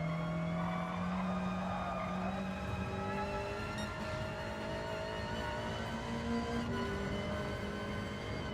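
A Hyundai Elantra races around a circuit in the Gran Turismo 7 video game, a steady engine drone whose pitch climbs and shifts through gear changes, with faint tyre noise and no talking.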